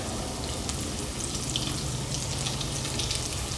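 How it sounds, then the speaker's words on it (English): Prawns deep-fry in a pot of oil, giving a steady bubbling hiss with fine crackles, moderately loud and continuous, with no voices over it. "So just fry it until it's crispy and golden."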